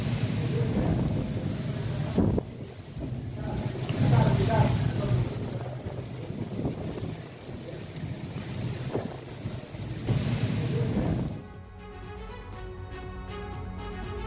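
Strong storm winds buffet a microphone outdoors in Brazil, a steady loud roar with gusting surges for about eleven seconds before cutting abruptly to quieter sound.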